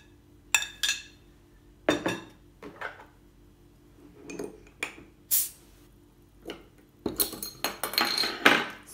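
A spoon clinks and taps against a bowl as yogurt is added for a leek börek, with scattered close metallic pings and clinks, sparse at first and then a denser cluster near the end, with no talk.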